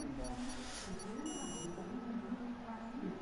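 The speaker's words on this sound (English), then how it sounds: "As my controller stops beeping, that means that 5 lights are about to go out" Controller beeps in an F1 racing video game counting down before the five start lights go out for the Brazilian Grand Prix, a short series of steady tones around one to one and a half seconds over engine drone and faint commentary.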